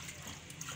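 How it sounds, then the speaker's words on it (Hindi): Water is poured into a pot of soaked chana dal in a home kitchen, giving a short, steady, soft splashing stream with no talking. "अब मैं पानी डाल दूँ इसमें"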